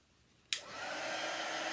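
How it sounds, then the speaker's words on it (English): A click followed by the steady rushing whir of a heat tool starting up and blowing continuously to dry chalk paste on a sign, close and fairly loud, no talking. "What I'm using is a heat tool"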